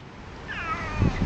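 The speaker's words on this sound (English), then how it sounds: "Oh, that's a cute meow." A tailless cat outdoors on a Manchester street lets out a single short, faint meow over low background noise.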